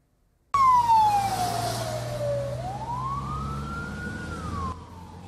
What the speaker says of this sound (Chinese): 消防车规路拢驶真凶